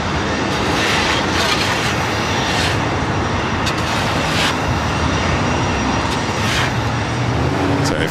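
A Delta Boeing 737-900ER jet at LAX roars loud and steady as a broad, unbroken rumble and whine, filling the space with a constant wash of engine noise.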